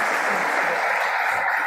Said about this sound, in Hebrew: מחיאות כפיים גדולות לרב